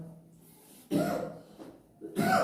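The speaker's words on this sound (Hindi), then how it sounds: "थोड़ा सा खांसी हो रही है" Two short coughing bursts from one person close by, separated by a brief pause, against a quiet background.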